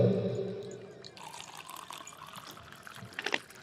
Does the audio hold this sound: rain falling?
no